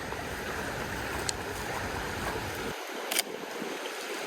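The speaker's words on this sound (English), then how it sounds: "It's just a long creek" Water in a long creek flows in a steady broadband rush that continues alone, with a couple of faint clicks and a dip in the low rumble near the end.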